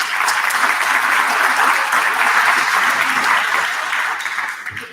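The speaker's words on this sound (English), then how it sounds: "So a round of applause to our board of directors." An audience at an evening pitch and networking event claps for the board of directors: dense, sustained applause close by that thins out and fades in the final second.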